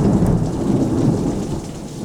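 A thunderstorm outdoors, with steady heavy rain and a deep rumble of thunder, loud and continuous throughout, with no voices.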